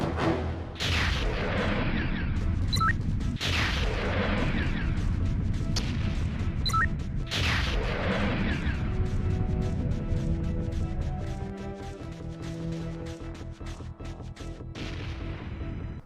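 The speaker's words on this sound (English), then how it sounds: "the very useful homing rocket launcher which can lock onto a bunch of enemies by sweeping them with the reticule, allowing you to fire away until they're all dead" Homing rocket launcher in the video game Jet Force Gemini firing several rockets in a row: three heavy blasts a few seconds apart over continuous game sound, then a quieter stretch with lingering rumble and effects.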